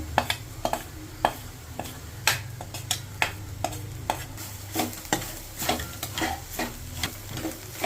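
A spoon scrapes and stirs marriage-style cabbage poriyal with roasted coconut in a pan, giving steady rhythmic clicks over a soft sizzle, close and moderately loud with no talking.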